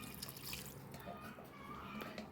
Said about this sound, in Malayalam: 2 ഗ്ലാസ് വെള്ളം ഒഴിച്ചു കൊടുക്കുകയാണ്.